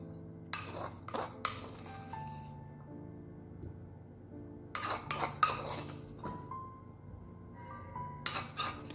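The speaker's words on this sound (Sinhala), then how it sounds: "සුදු ලුණු පොල් අබ මේ ඔක්කොම එකට දාලා වංගෙඩිය කොටා ගන්නවා" Garlic, coconut and mustard seeds pounded together in a wooden mortar for a Sri Lankan cucumber dish: short clusters of quick knocking thuds, separated by quiet pauses, close and fairly soft.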